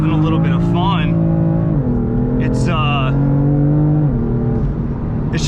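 Car with a dual-clutch transmission revving hard and accelerating, its engine note climbing steadily then dropping sharply at quick gear changes, a loud continuous drone close to the listener.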